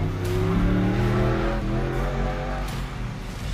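An off-road race car in a Pro/Ultra 4 desert race at Columbus, Montana roars past nearby, its engine loud and steady before fading slightly as it moves away.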